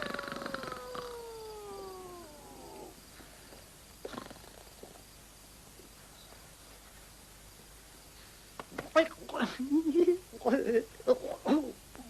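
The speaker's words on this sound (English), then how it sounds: "That damn rooster thinks he's an owl." A rooster in a 1973 film scene gives a drawn-out, falling, hoot-like call like an owl, followed after a quiet stretch by a burst of rougher, choppy calls.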